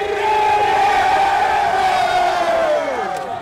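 Loud crowd of college football fans cheering and roaring in Allegiant Stadium at a UNLV Rebels home opener against Idaho State, a sustained massed shout filling the whole moment, swelling then slowly fading.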